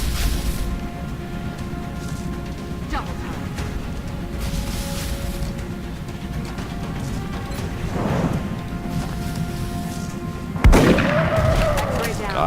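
Gunfire in XCOM: Enemy Within heard as a few sharp, isolated shots and crashes over a low, continuous ambient rumble, with one loud impact near the end followed by a ringing tail.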